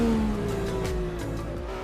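An IndyCar in a racing video game, its engine note falling in pitch as it brakes hard, with a tyre squeal under the deceleration, loud and close.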